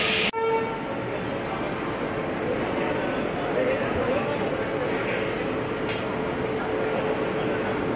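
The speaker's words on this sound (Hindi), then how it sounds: "तो 10:05 पे हमारा डिपार्चर स्टार्ट हो गया है कोटा जंक्शन से।" Mumbai–New Delhi Duronto express pulling out of Kota Junction: a steady, close rumble of rolling wagons, with a faint high squeal of wheels and a brief horn-like tone near the start.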